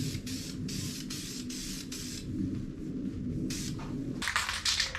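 A spray can of primer hisses in bursts onto a rebuilt 350 engine for a C10 dually truck, with short pauses between passes, close and loud, and no talking.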